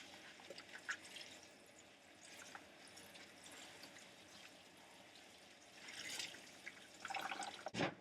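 Water running and dripping as a synthetic wig is rinsed over nested plastic bins, faint trickling and splashing with a few louder pours near the end, quiet and close.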